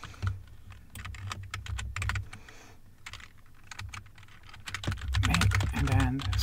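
Rapid typing on a computer keyboard, dense clusters of close key clicks that speed up and slow down, with a low hum and some quiet talk mixed in.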